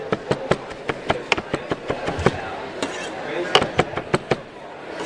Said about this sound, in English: So we're going to chop up this mint here.